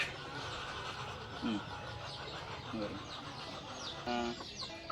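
A three-year-old Siruvidai rooster clucks and gives short calls a few times over steady outdoor farm background noise in Ariyalur, with someone talking throughout.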